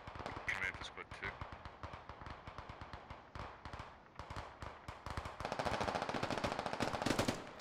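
Rapid automatic gunfire crackles in dense bursts during a firefight in the military shooter SquadOps, with shots from several weapons overlapping and building toward the end while voices talk over the shooting.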